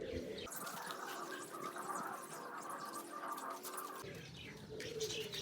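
Pigeons coo softly in low, throaty rolling calls. Faint chirps and rustling sound around them, with no talking.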